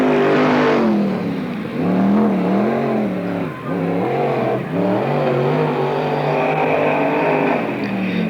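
Sprint car racing engines roar on a dirt oval at a NARC sprint car event in Marysville, California, including a 1991 Beast chassis car, with loud, steady revving that rises and falls as cars sweep through the turns.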